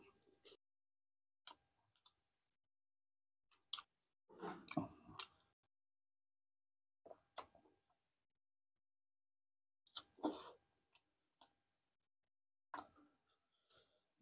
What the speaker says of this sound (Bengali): এই যে নিয়েছি, এখন খাওয়া দাওয়া চালু হবে। রুটি, হ্যাঁ।